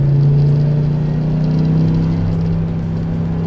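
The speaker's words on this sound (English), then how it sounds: "the engine runs fantastic" A Dodge Ram SRT-10 pickup with a V10 engine and 37,000 miles idles close by. The rumble is steady, smooth and loud, with a constant low hum and no talking.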